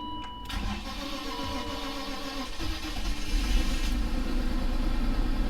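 A BMW E39 car engine cranks and catches, then settles into a steady idle that grows slightly louder, close by with no talking.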